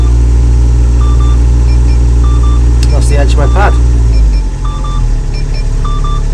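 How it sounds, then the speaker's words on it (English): Guidance beeps repeat in the cab of an Icon Excavator, short high tones in pairs and singles that mark depth and online status, heard over a loud steady engine rumble while someone talks briefly. "two types of beeps, one for the depth, one to tell me I'm online"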